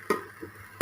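A spoon scrapes through potato and capsicum curry in a pan: two short stirring strokes near the start and end, with a quiet pan hum between them.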